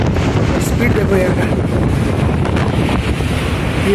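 Strong cyclone wind buffets the microphone over a steady roar of rushing floodwater in Pune, Maharashtra, loud and continuous throughout.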